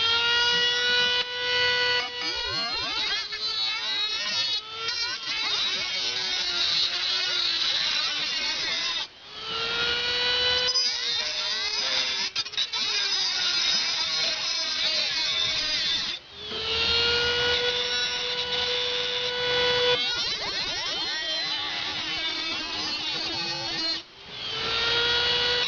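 A power tool cuts metal for an oven latch during an oven build, a loud, continuous whining drone with shifting pitch that runs nearly nonstop, broken by a few brief pauses.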